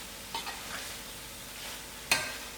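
Cauliflower and peas curry (gobi matar) frying quietly in a pan, a soft low sizzle with a few light stirring scrapes and one sharp clink of a spoon near the end.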